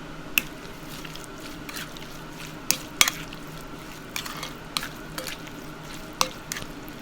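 Wet squishing and stirring of laab mushroom being tossed with galangal and roasted rice, soft clicks and scrapes at an irregular pace, close and fairly quiet, with no talk.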